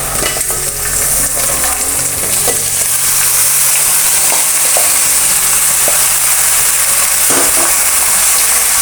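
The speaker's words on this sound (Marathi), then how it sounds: "आपण आपलं आता हे चिकन घालून घेऊ ह्याच्यात" Village-style chicken stir-fried with onions in a pan, a loud, close, unbroken sizzle with occasional stirring knocks against the pan, no voices.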